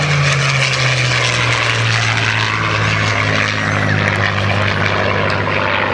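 A Spitfire TR-9 two-seat trainer flying at the East Fortune airshow, its propeller engine droning loud and steady with a low growl, holding constant throughout.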